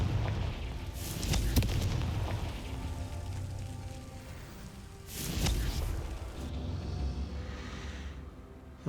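A Confringo fire spell explodes in Hogwarts Legacy, with two loud booming blasts about four seconds apart over a rumbling game background.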